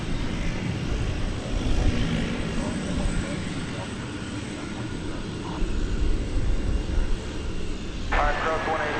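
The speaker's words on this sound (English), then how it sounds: "American 767 Romeo." An American Airlines Boeing 767 at DFW Airport at night, a steady low engine rumble with a few louder swells, and radio chatter and voices over it.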